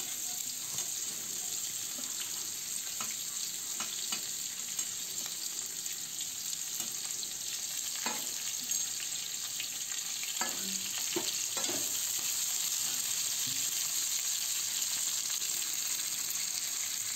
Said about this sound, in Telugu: ఇప్పుడు ఉల్లిపాయ ముక్కలు, పచ్చిమిర్చి ముక్కలు, కరేపాకు బాణట్లో వేసి బాగా వేయించాలి.